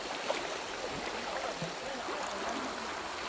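River water flowing around someone wading across, a soft, continuous gurgle and rush with small splashes, faint and close, with no talking.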